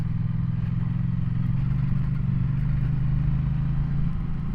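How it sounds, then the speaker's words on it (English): A dual sport motorcycle rides on a hard packed dry gravel road with loose marbly gravel on top, its engine droning steadily and close with a low rumble and faint clatter. "Surface I'm riding on today is very hard packed, dry gravel road with a lot of marbly"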